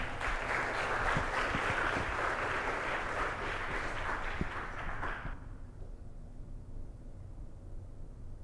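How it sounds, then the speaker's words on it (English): Broad, steady applause from a school youth talk audience, a dense wash of many hands clapping for about five seconds before cutting off abruptly to quiet room tone. "give a big round of applause to the next 3"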